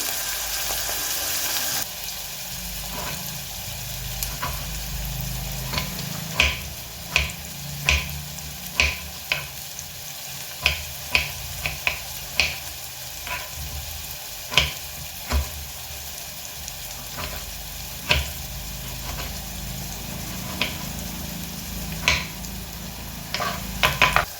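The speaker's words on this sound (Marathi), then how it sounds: "तोपर्यंत कांदा चांगला फ्राय होईल।" Chopped onion fries in a pan for a ridge gourd curry, a continuous soft sizzle punctuated by a dozen or more sharp spatula clicks and scrapes at irregular intervals.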